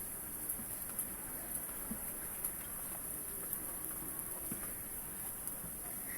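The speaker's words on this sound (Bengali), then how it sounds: "এরকম ধরনের ছিটা বৃষ্টি পড়তেছে" Soft, steady patter of light rain with scattered drops ticking nearby, no voices, a continuous gentle hiss throughout.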